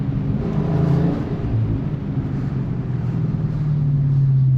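A 2023 Dodge Charger Super Bee Scat Pack Widebody accelerates on an open road, its loud engine droning with a low steady rumble that rises in pitch toward the end, heard from inside without talk.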